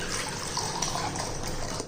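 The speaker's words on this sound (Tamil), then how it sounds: "இப்போ பக்கத்தில் ஒரு பவுலில் தண்ணி ஊற்றிக்கிடுவோம்." Water poured into a bowl in a kitchen while making a steamed weight-loss puttu, a steady close splashing stream heard alone for about two seconds.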